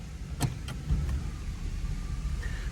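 A 1991 Cadillac Brougham idles at the start of a test drive, a low, steady engine rumble heard from inside, with a few faint clicks near the beginning and a thin whine near the end.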